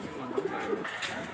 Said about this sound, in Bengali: এইখানে দেখতে পাচ্ছেন একজোড়া গিরিবাজ কবুতর।